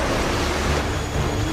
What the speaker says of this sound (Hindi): समुद्री लहरें लगभग 40 फीट ऊंची उठकर बहुत तेज वेग में मंदिर की ओर चल पड़ती हैं